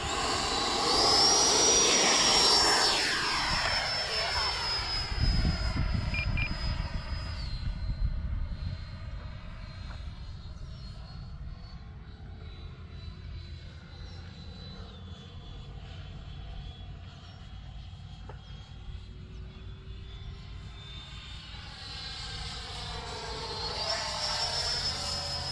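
A Freewing Avanti S radio-controlled jet airplane flies overhead with a steady whooshing ducted-fan whine, loudest early on as it passes close, then fading to a more distant drone before swelling again near the end; no voices.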